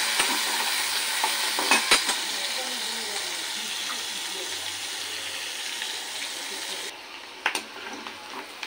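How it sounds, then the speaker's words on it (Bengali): Chopped onions frying in oil in a wok, steady broadband sizzle with a few scraping stirs, continuous and close, dropping slightly quieter near the end. "পেঁয়াজটা ভাজা হয়ে গেছে।"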